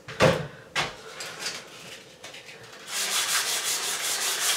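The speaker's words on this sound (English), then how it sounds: "I'm going to distress by sanding down the edges and revealing the gray that's behind all of this" Sandpaper rubbing the edges of a chalk-painted wooden medicine cabinet to distress it. Two sharp strokes come first, then a quieter pause, then a continuous, brisker scratchy rub.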